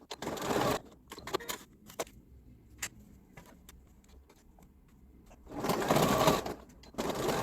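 A sewing machine runs in two bursts, stitching a zipper card coin wallet: a steady whirring run at the start and another near the end, with quiet handling clicks and taps between them.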